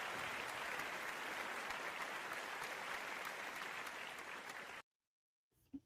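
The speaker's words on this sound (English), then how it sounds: "That was actually the crowd, and then I added a little applause of my own." A crowd applauding at an Invictus event, a dense, even roar of clapping heard from some distance that cuts off abruptly near the end, followed by near-silence and a brief low thump.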